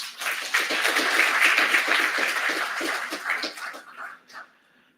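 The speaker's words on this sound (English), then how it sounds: "Can we give them a hand of applause?" Conference attendees at a spectrum management session clap in a close, full burst of applause that gradually fades, ending in a few scattered claps.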